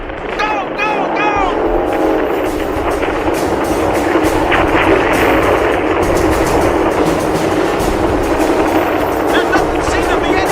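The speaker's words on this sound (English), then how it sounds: "All the gunnery positions have opened fire!" Dense, continuous gunfire and bombing effects from jets and gunnery positions in a radio drama roar steadily throughout, with voices shouting over the din.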